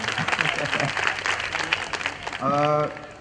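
An audience at a certificate and award ceremony in Cheeta Camp claps steadily at moderate volume, with a voice cutting in over the applause near the end.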